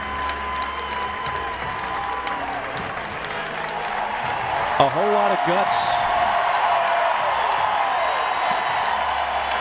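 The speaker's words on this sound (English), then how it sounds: "a whole lot of cheering going on for the effort by Kevin Kopps today" A college baseball crowd at an NCAA tournament game between NC State and Arkansas applauds and cheers steadily, a broad sustained roar with a few whoops, while a commentator talks over it.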